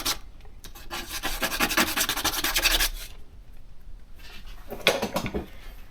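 Sandpaper rubbing a wooden swimbait lure, a close, raspy scratching that runs steadily for about three seconds, then stops, and a shorter second burst of rubbing follows.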